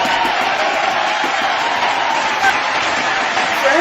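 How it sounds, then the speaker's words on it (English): A school audience claps and cheers loudly in a hall, a thick continuous crowd noise with scattered whoops and murmured voices running underneath. "can we get a loud applause for Mr."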